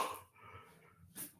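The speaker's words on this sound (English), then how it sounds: "Yawning is great sometimes." A person gives a long, drawn-out yawn during a shiatsu and energy-work class. It starts with a breathy rush, holds as a steady voiced tone for about a second, then ends in a short exhale. It is close and fairly quiet.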